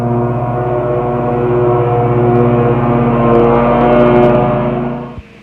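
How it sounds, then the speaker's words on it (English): A lawn mower driven by Andy drones loud and close, its steady harmonic engine hum swelling slightly, then cutting off abruptly near the end with a brief thump. "it sounds like Andy's moving up that way a little bit"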